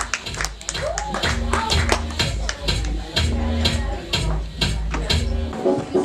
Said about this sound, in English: a huge round of applause for Sartha